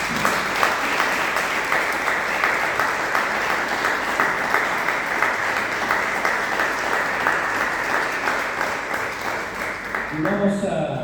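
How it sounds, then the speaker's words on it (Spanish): A church congregation applauds in a sustained, dense wash of clapping that holds steady throughout, with voices mixed under it. "Dale un aplauso al Señor."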